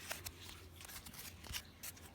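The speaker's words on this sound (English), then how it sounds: "let's give it a shuffle and see what we get" Deck of Cosmic Reading Cards being shuffled, a soft papery riffle of quick clustered flicks, quiet and close, with no voices.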